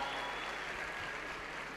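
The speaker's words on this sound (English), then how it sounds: "Let's give Pastor Mpopo a round of applause." A crowd at a youth empowerment event applauds a pastor, a brief, even, moderately faint clatter of clapping heard as a steady wash.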